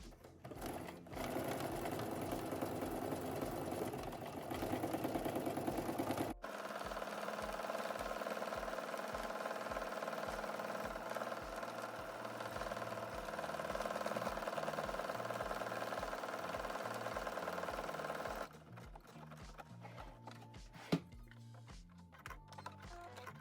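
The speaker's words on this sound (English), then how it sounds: "Now you can do your buttonhole stitch." A sewing machine stitches a buttonhole on a denim jacket, a steady close mechanical whir with a rapid pulsing rhythm that runs continuously, shifts to a different stitch pattern partway through, then quiets near the end.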